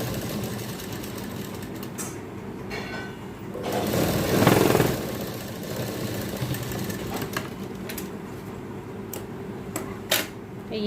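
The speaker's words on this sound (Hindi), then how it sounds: "हम 1 इंच के मार्जिन को लेते हुए यहाँ पर इस तरीके से स्टिच कर लेंगे।" A sewing machine stitches baby frock fabric with a one-inch margin, its needle chattering in a rapid, steady mechanical rhythm, close and fairly loud, with a brief louder burst midway and a few clicks near the end.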